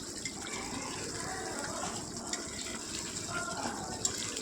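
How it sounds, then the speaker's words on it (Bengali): Mustard pointed gourd (sorshe potol) curry boiling in a pot on the stove, a steady soft hiss and bubbling that holds at an even level throughout with no voices. "দেখুন তরকারিটা ফুটে গেছে আমার"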